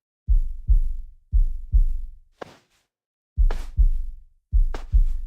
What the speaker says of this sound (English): Because now I can hear her heartbeat.